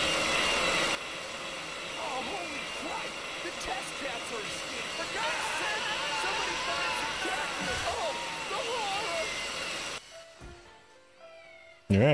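Cats meow repeatedly in the video game Postal 2, overlapping cries over a steady background drone, with game voices heard; the sound cuts out near the end.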